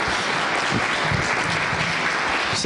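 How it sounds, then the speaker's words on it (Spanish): Sustained applause from a crowd at a lecture event, dense and even clapping filling the whole moment, loud and close. "Un aplauso"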